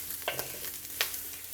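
Anchovies frying in a Chinese wok while being stirred, with a steady soft sizzle and a few scraping clinks of the utensil against the pan, close and fairly quiet.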